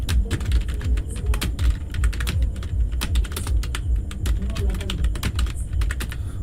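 Code being typed on a computer keyboard: rapid, uneven clusters of clicky keystrokes, close and fairly loud, with a voice speaking faintly underneath.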